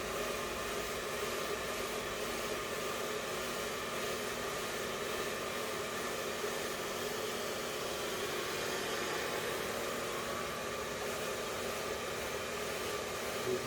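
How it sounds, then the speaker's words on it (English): A handheld blow dryer drying a person's hair during a haircut and blow-dry, its steady breathy whoosh and motor hum running close and loud without a break from start to finish. "because I'm leaving the blow dryer nice and flat, you can see that it's actually giving a nice shine to the hair"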